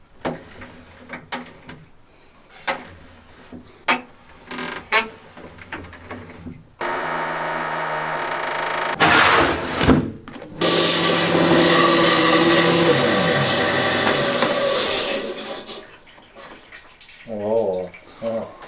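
A rock saw slices an agate in half with a loud, steady, gritty whine that runs for about eight seconds amid splashing coolant, preceded by scattered knocks and handling noises.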